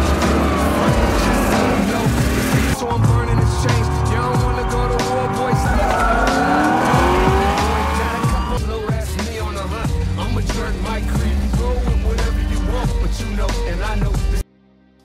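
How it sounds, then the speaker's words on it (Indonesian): A sports car races away from pursuing police cars in a movie chase, engines roaring loud and close with squealing tires and skids, the din building, then thinning into scattered impacts before cutting off abruptly near the end. "sebuah mobil sport dikejar kawanan polisi hingga akhirnya berhasil lolos"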